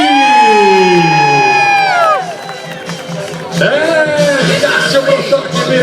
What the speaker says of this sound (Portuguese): Quem gostou pode gritar aí.